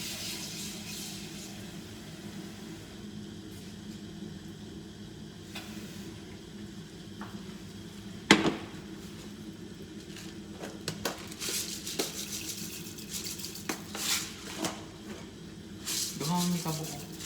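Chicken stew frying in a pan under a steady low sizzle, with scraping stirs and a sharp knock against the pan, while a person talks quietly nearby.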